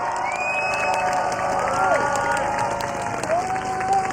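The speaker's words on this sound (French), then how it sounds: "un tonnerre d'applaudissements" Crowd at a political rally applauding and cheering, sustained clapping under shouts and raised voices, with whistles and excited calls rising above the noise.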